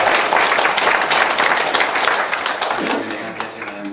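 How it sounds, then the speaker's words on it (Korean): Inside a church, a congregation gives its school teachers a burst of warm applause, with dense clapping that is loud at first and then gradually thins and fades. "다시 한번 박수로 우리 이분들 격려해주시고"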